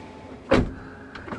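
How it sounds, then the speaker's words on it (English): A Rolls-Royce Wraith's power-operated door closes at the press of a button, giving one firm, fairly close thud followed by fainter mechanical whirring and settling sounds. "So you press this button right here."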